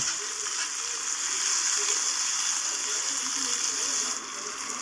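Ivy gourd and chopped tomato frying in a pan over medium heat, a steady soft hiss of sizzling oil with faint stirring, continuous and fairly quiet with no speech.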